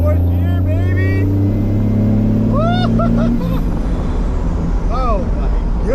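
A diesel car engine revving loudly as it accelerates, its droning tone climbing through the gears before the pitch drops at a shift, close and dominant, with a voice speaking over it and chirpy squeaks partway through.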